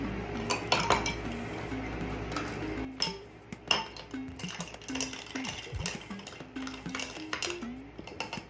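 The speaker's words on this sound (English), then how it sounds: "then it says top with ice cubes and stir to combine" Ice and metal clink and rattle against a glass while a drink is stirred, a run of close, light clatters and taps with no talking.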